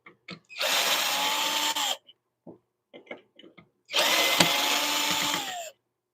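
A power drill backs screws out of a wood lathe setup, running in two loud whirring bursts of about a second and a half each, separated by short clicks and handling knocks.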